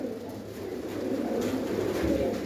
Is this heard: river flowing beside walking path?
no